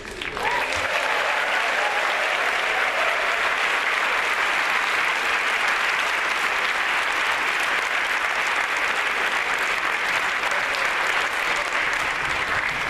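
Loud, steady audience applause at a World Solar Challenge event fills the whole stretch with dense, unbroken clapping from a large crowd, close and continuous.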